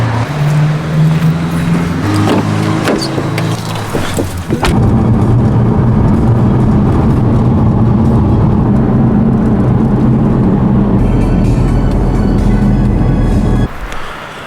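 Car driving on the road at night, with a steady loud engine and road rumble throughout, broken by a few clunks and shifts early on and easing off near the end.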